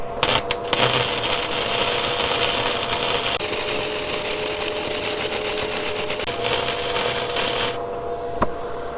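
Weldinger ME 130 flux-cored inverter welder laying a couple of beads: a steady crackling, hissing sizzle that runs continuously and fairly loud at close range, then cuts out near the end.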